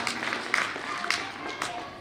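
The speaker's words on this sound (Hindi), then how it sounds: "बेटा एक बार जोरदार तालियां हो जाए।" Applause from an audience of schoolchildren at a Republic Day school function, a steady patter of many hands clapping at moderate distance, with a few sharper claps standing out and faint voices mixed in.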